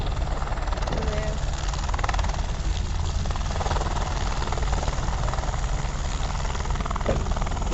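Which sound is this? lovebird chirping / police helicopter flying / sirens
police helicopter flying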